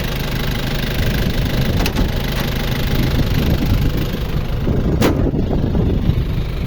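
A 1996 Nissan Big M pickup with a 2500cc engine idles steadily and close by, a continuous low rumble with no pauses and no voices.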